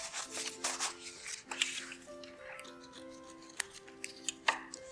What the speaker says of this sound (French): Je découpe au centre.